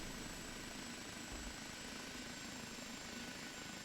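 An OH-58D Kiowa Warrior helicopter lands in the DCS World flight simulator, its engine and rotors making a steady, dense whooshing drone that holds at a constant level throughout.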